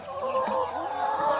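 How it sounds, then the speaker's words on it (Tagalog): Cage-free backyard chickens on a farm in Cebu cluck softly and continuously, a close, low-key murmur of several birds in a short stretch. "Ito ang mga manok."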